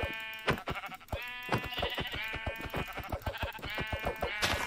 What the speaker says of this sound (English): Is this a brown sheep?